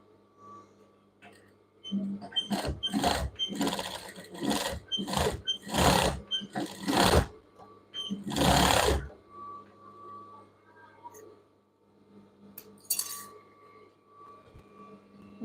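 Sewing machine stitching overlapped elastic ends on children's pajamas, running in several short bursts of rapid stitching with pauses between, close and fairly loud.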